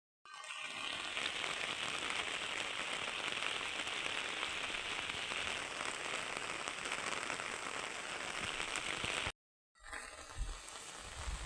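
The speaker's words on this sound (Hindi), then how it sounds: "तो गाइस अभी लग चुकी है बारिश" Heavy rain pours in a dense, steady hiss, loud and continuous, cutting out for a moment near the end before resuming with some nearby rustling.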